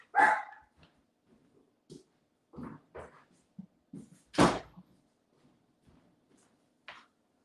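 Indoor dog barking at someone at the door, a few scattered, fairly faint barks and yips spread among quiet pauses, with one sharper, louder bark midway through.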